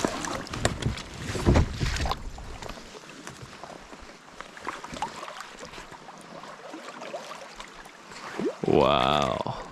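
A kayak scrapes and swishes through a tiny, very shallow creek in Upper Michigan, with rough, uneven splashing and rustling near the microphone, some wind noise, and a louder stretch at the start.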